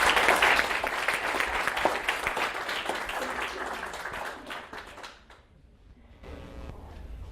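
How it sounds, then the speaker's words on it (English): A big round of audience applause for sponsors at a corporate marketing conference kickoff, dense clapping that gradually thins and fades out, followed by quiet room tone. "let's give a big round of applause for these great sponsors"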